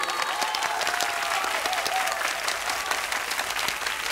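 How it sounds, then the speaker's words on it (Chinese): Steady audience applause fills a televised stage competition as a contestant is welcomed for a Sleeping Beauty stage play, dense and even clapping from a crowd that holds at one level throughout. "掌声有请。"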